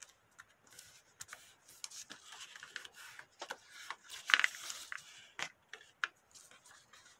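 Paper being folded in half for an origami cube rose, soft close-up crinkles, creases and rubbing taps in irregular bursts, quiet with no talk.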